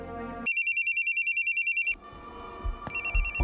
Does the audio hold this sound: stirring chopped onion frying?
no